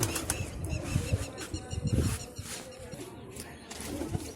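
Pigeons are released and flap their wings in several close, rustling bursts, with faint cooing and chirps among them and murmured voices in the background.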